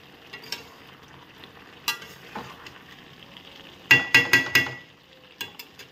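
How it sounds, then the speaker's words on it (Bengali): A spoon stirs flour into a pickle mixture in a pan, giving scattered scraping knocks and then a quick run of four sharp clinks against the pan, with faint sizzle beneath. "দিয়ে আমি এটাকে ভালো করে নেড়ে নেব।"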